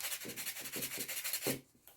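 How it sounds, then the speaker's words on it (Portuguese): Sandpaper rubs back and forth over the corner of a wooden box in quick, rhythmic strokes, close and steady, before the scraping stops abruptly near the end. "Lixando aqui esse cantinho."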